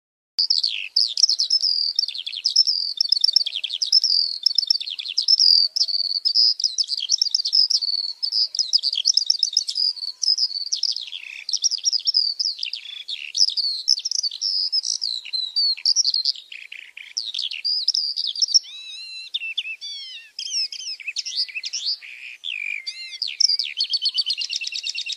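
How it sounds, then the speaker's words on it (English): Skylark song, a long, continuous stream of rapid high warbling trills and chirps, clear and alone against a silent background. "The next video shows a skylark's song."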